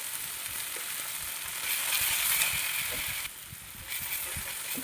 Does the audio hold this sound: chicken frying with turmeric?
yes